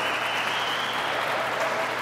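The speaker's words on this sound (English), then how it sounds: "the crowd puts their hands together for Killian" A handball crowd claps steadily through a men's open singles final at the USHA Nationals, a dense, even wash of applause from the stands with no voice rising above it.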